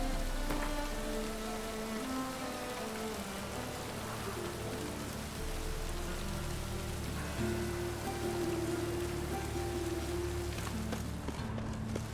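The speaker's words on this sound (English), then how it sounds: "Rain was coming." Steady rain in the video game The Witcher 3: Wild Hunt patters on surfaces, a constant hiss of drops with faint low tonal hum underneath, unbroken for the whole stretch.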